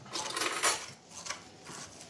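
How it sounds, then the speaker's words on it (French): Ground steak mixed with breadcrumbs being crushed and pressed for a meatloaf in a home kitchen, giving soft squelching, scraping bursts against a bowl, close and moderately quiet, in three uneven pushes. "J'écrase le steak."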